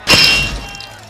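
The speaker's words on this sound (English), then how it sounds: "Moses smashed the golden calf and beat it into powder." A golden calf statue is smashed in one sharp, loud crash with a glassy, metallic ring, followed by a fading rumble and settling debris, with no talking.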